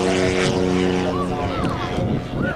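A large model Hawker Sea Fury's propeller engine runs loud and close with a steady buzzing drone, its pitch wavering slightly as it holds power.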